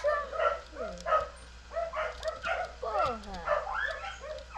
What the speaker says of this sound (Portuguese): Meu Deus, para de latir, cachorro.